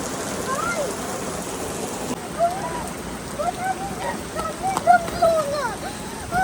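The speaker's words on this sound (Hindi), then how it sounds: "बारिश बहुत तेज़ स्टार्ट हो गई है" Heavy rain begins pouring near an outdoor pool, a dense steady hiss of falling water, with people calling out and birds chirping intermittently over it.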